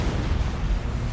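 Torpedo fire in Battlefleet Gothic: Armada 2 brings a continuous, loud, rumbling roar of blasts and explosions with no gaps.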